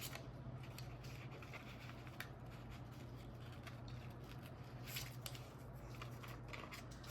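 Scissors with stickers stuck to the blades snip through paper and washi tape at a desk, giving faint, close crisp cutting sounds over a steady low hum, with no voices.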